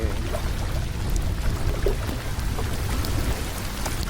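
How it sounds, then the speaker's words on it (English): Heavy rain pours steadily on a backcountry canoe trip in Quetico Provincial Park, a dense, even hiss of drops on water and the boat with a low rumble underneath, no voices. "Oh, it's gonna be a hard rain."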